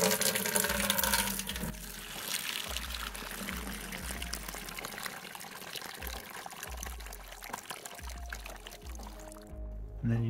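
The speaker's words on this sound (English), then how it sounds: "So to drain it, I just have a bucket, and all you gotta do is open this valve." Water pours steadily from a hose valve on an ExoTerra Frogs & Co vivarium into a bucket, a continuous close splashing trickle that runs for about ten seconds with no talk over it.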